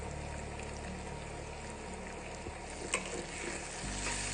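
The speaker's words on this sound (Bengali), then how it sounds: "প্রথমে তেলের মধ্যে পেঁয়াজ ছেড়ে দিলাম, পেঁয়াজটাকে একটু ভাজা ভাজা করব, আর সাথে লঙ্কাও।" Onion and green chilli fry in hot oil with a steady close sizzle that runs throughout, a brief stir-like clatter near the middle and a slightly louder crackle toward the end.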